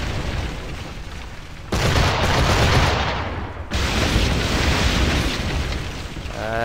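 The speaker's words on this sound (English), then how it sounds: "Fortress firing." Fortress cannons in Assassin's Creed IV Black Flag boom in a loud, continuous barrage of blasts and rumbling explosions during a naval battle, swelling in two heavy surges.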